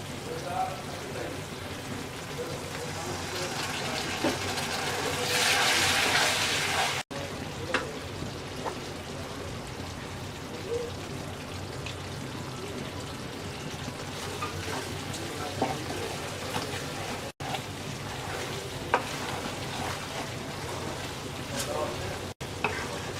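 Star fruit pickle with vinegar and ground spices stirred in a pan, a steady soft sizzle with scraping stir strokes throughout, briefly louder and hissier midway, with scattered small clicks.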